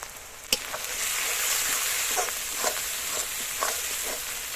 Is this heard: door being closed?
no